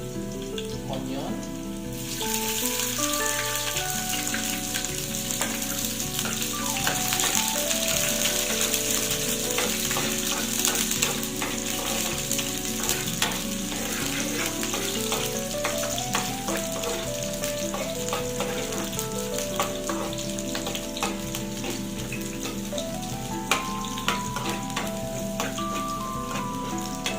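Garlic, then onion, fries in olive oil with a steady crackling sizzle that lasts throughout, while background music plays faintly underneath.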